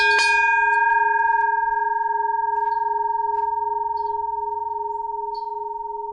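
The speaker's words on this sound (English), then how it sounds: "There's this bell I found on a tree. Let's ring it." A bell hanging on a tree along a mountain bike trail is struck once, ringing out loud and clear, then sustaining a long steady tone that slowly fades.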